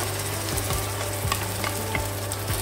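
Tomatoes frying in a pan for a green curry, an even close sizzle with a low steady hum and a few soft stirring scrapes at regular intervals over a few seconds.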